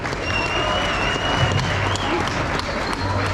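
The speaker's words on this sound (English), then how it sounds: "Big round of applause for all those kids." A crowd at a livestock show applauds the kids showing animals, steady many-handed clapping that fills the whole stretch, with faint voices and murmuring from the arena mixed underneath.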